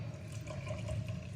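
Water poured into vada curry cooking in a pan, a short, steady, close liquid stream with a soft gurgle, continuous and moderately quiet, with no talking.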